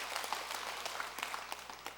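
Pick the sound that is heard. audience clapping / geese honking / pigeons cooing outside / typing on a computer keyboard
audience clapping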